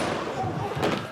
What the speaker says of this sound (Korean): 화이팅을 외치는 순간 어디선가 들리는 총소리.